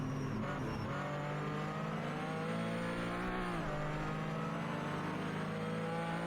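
Onboard engine of a Porsche 935/K3 race car at Sebring, a loud, continuous high-revving drone whose pitch climbs and then dips briefly as it shifts before climbing again.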